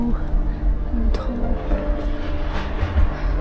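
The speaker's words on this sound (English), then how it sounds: "The train to Lhasa." Inside a sleeper carriage on the train to Lhasa, the carriage rumbles and hums steadily, with faint clicks and clinks, under nearby talking.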